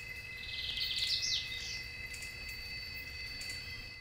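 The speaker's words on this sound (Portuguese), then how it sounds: "quem escolhe visitá-la com certeza vai se deparar com o som de diversos pássaros" Birds sing at Lagoa Maior, a lake in Três Lagoas, Brazil, with a quick burst of bright chirps and trills near the start over a steady outdoor background hum, then the calls fade.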